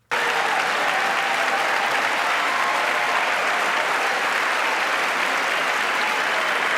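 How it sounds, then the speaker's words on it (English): A large audience applauds during a State of the Union address, a dense, loud and sustained clapping that starts abruptly and holds steady to the end. "Sorry for the applause."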